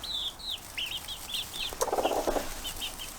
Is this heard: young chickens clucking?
yes